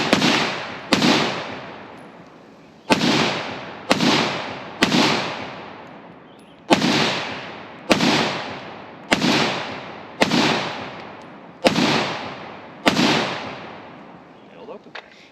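SIG SG552 commando rifle firing without a faux suppressor outdoors, about a dozen loud, sharp single shots at uneven intervals, each with a booming decaying echo.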